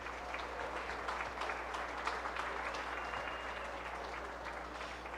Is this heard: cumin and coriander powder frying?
no